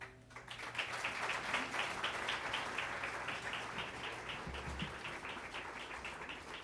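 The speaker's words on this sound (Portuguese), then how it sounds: "Ese aplauso más fuerte para la gloria de Dios" Applause from a church congregation, a steady dense patter of many hands clapping that holds for several seconds at moderate distance, with no talk over it.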